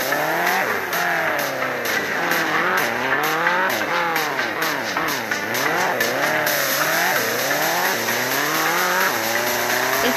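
A race car in a video game accelerates and revs hard, engine pitch sweeping up and down repeatedly as tires squeal through corners, loud and close, with no talking.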